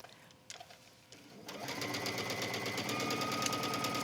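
A domestic sewing machine runs a regular straight stitch around the curved neckline of a wrap dress, starting after a few soft handling knocks and then whirring steadily and fairly loud through the rest of the stretch.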